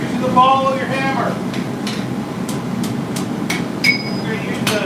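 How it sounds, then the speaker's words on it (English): The ball of a hammer strikes hot metal on an anvil while a spoon is forged, giving a series of sharp metallic hits at an even pace over a steady background hum, with a voice talking partway through. "Use the ball of your hammer."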